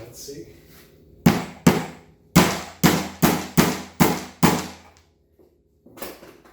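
Several sharp woody cracks and snaps as a nail pulling tool grips and levers nails out of wood, about seven loud close bursts in quick uneven succession, with brief speech at the start.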